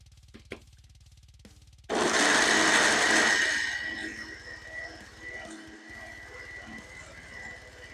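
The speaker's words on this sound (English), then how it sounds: "we'll blend this up again" A blender whirs loudly through a batch of fermented hot sauce with onions, starting abruptly with a roar that eases into a steadier, quieter hum as the blades keep spinning.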